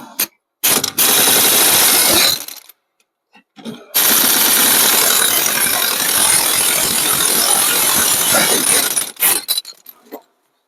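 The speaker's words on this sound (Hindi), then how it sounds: "तो मेरे पास गन है, लंबा डिस्टेंस ले लेता हूँ और 12 की गोटी और" An impact gun fitted with a 12 mm socket loosens a steering column bolt. It makes two loud, sustained rattling bursts, a short one and then a longer one of about five seconds, with a few quick clicks between them.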